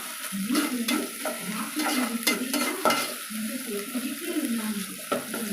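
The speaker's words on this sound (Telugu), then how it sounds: "అల్లం వెల్లుల్లి పేస్ట్ బాగా వేగింది." Ginger garlic paste frying in a pan for egg tomato pulusu, stirred in brisk, repeated scrapes over a steady crackling sizzle, close and fairly loud.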